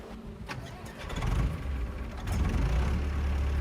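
A farm tractor engine runs nearby, starting with a low chugging rumble that grows stronger and steadier as it settles into a loud, continuous idle.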